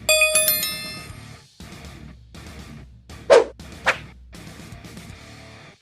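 A bright notification bell chime rings out at the start, followed by soft background sounds and two short sharp bursts later on.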